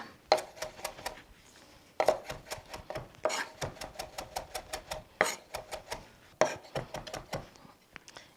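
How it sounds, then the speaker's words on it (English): A knife chops fresh cilantro and dill on a cutting board in quick rhythmic bursts of crisp taps, close and clear, with short pauses between each run of chopping. "now for the cilantro and dill, chop this all up"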